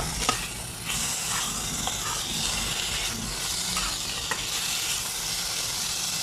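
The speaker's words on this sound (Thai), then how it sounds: "อันนี้เป็นหมูป่าด้วยค่ะ ผัดเผ็ดหมูป่า" Wild boar meat in a spicy stir-fry sizzles loudly in a pan, a constant hiss broken by occasional spatula knocks and scrapes, with no voices.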